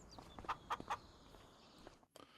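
Three quick, clear clucks from a chicken close by in the video game Farming Simulator 25, over a quiet background, followed by a couple of faint softer clucks.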